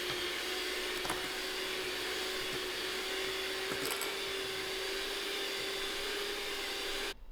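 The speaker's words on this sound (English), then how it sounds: "I am using my electric whisk to just mix up this cream." Electric whisk mixing cream for tiramisu, a steady, even motor whir that runs close and constant for about seven seconds before cutting off, with no voices.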